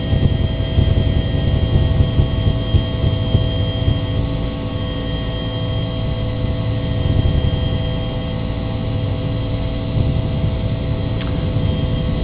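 UH-1 helicopter engine in flight in a flight simulator game, a loud steady turbine drone with sustained tonal hum and low rotor rumble, continuous and unchanging, no talk.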